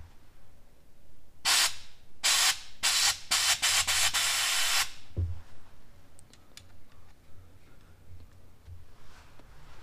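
Short bursts of aerosol cleaner sprayed around a Mercedes OM648 diesel engine injector, several hissing blasts in quick succession followed by a longer spray, then quiet handling clicks.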